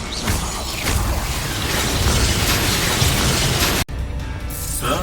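Explosive spell blasts from the Hogwarts Legacy video game, a dense, continuous roar of booms and crackling bursts with mechanical rattling, loud and sustained, then a brief cut before more rumbling.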